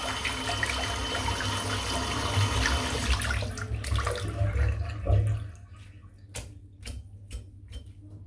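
Tap water runs steadily into a sink to wet a TDR 28mm rhodium-knot shaving brush, then shuts off after about five seconds, leaving a few faint taps and clicks.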